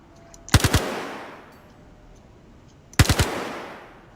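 Two quick bursts of gunfire from a gun in the video game Star Citizen, each three rapid shots with a fading echo, loud and close, separated by about two seconds of quiet.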